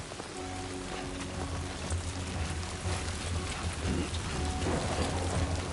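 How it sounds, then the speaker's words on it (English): Steady rainfall in the video game Death Stranding 2, a dense continuous hiss of drops on surfaces with a faint low rumble beneath, heard alone without speech. "It's a sun shower, yay!"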